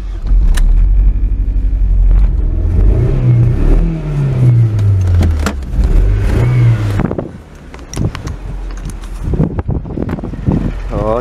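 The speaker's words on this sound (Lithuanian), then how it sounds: "paskutinį kartą pasiklausom šio nusekėjai įkainuto automobilio garso" A sporty Ford car's engine revs loudly and close, its pitch climbing and dropping through several throttle blips before settling into a rough rumble.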